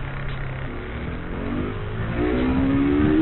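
A KTM RC390 motorcycle engine revs and accelerates steadily, rising in pitch over a continuous rush of wind noise, recorded on the moving bike.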